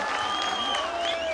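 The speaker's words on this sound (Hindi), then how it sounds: "जोरदार ताली हो जोरदार ताली" Audience applause at a college silver jubilee program, dense continuous clapping with crowd noise throughout, with a tone sounding over it.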